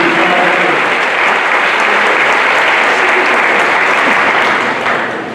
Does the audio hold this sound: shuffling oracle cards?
no